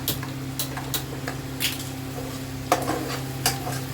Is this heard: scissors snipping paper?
no